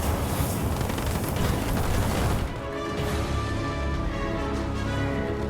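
Ghost hover vehicles in Halo Wars 2 approaching with a dense, loud roaring rumble that shifts midway into a steadier humming drone, heard alone without talk.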